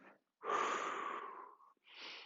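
Deep breaths during a gentle stretching exercise: a long, strong exhale through the nose or mouth, then a shorter, softer breath after a brief pause, close and clear in a quiet room.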